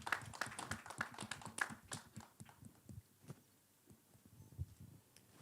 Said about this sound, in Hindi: श्रीजी के लिए एक बार जोरदार ताली होनी चाहिए।